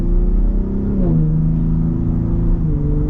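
A 2021 Ford F-150 Raptor Gen 3 engine pulls steadily under throttle, its deep, loud rumble climbing in pitch, dipping briefly, then rising again throughout.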